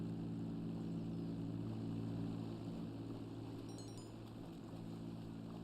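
Airplane taken by an NPC in the GTA Online video game, a steady, droning propeller engine hum that holds loud and constant, with faint electronic beeps from the game near the end and no talk.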